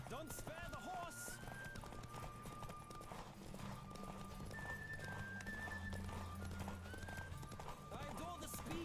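A horse gallops with rapid clip-clop hoofbeats and an occasional whinny in the video game Witcher 3, with game music and a voice talking over it.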